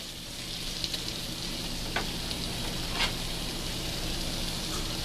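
Chicken pieces sauté with softened tomatoes in a pan for chicken biryani, giving a loud, continuous frying sizzle with occasional soft ticks of a spoon against the pan.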